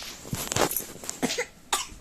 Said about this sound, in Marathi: हो खोकली खोकली.